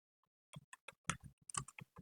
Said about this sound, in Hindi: तो मैं लिखूंगा हाय सुजैन